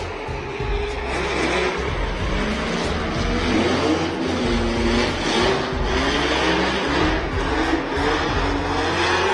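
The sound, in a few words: drift car engine revving during drift competition run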